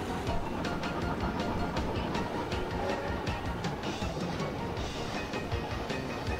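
A freight train rolls along in Chris Sawyer's Locomotion, a railway simulation game, with a steady, dense rumble and faint clickety-clack of the wagons running continuously at even loudness.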